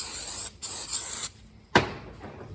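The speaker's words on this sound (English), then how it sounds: "spray it around the rotor." Brake cleaner sprays from an aerosol can around a new brake rotor to strip its oily film, in three sharp hissing bursts with short pauses between them, the last burst the strongest.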